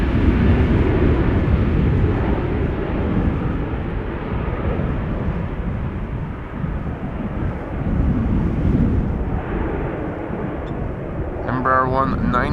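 A KLM airliner, an Embraer 190 on flight 1199 to Stavanger, departs Schiphol Airport with a loud, sustained jet roar mixed with wind buffeting, fading slightly midway before swelling again, with a brief voice near the end.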